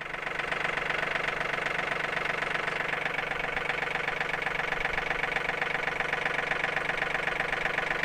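A tractor engine idles steadily close by, a constant mid-pitched rumble with a faint knocking pulse and no change in pace throughout.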